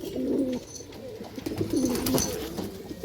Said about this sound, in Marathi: हे सगळे बाबा भोसले लाईनचे कबूतर आहेत